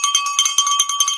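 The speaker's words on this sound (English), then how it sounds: "I'm going to ring a bell." A small handbell is shaken by a podcast host, giving a quick run of about ten bright, close metallic rings in rapid succession, clear and alone.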